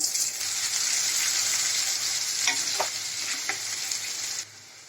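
Bay leaf, two dried red chillies and chopped onion hitting hot oil, a loud dense crackling sizzle with a few stirring knocks, close up, cutting off abruptly near the end.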